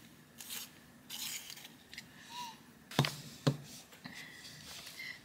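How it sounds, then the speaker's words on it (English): A blunt colouring pencil being sharpened at a desk, a few soft scraping, rasping twists with a couple of sharper clicks, faint and close. "I'm just going to sharpen."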